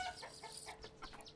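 Chickens in the medieval village game Manor Lords cluck in a quick, busy run of short calls, fairly close and alone without talk.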